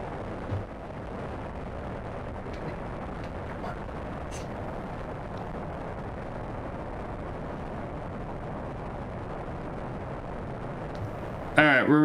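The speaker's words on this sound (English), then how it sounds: "As we lift off from the Space Center in an overly large rocket." A large rocket lifts off in the Spaceflight Simulator video game, producing a continuous low roaring rumble that holds steady throughout, with a brief electronic blip at the end.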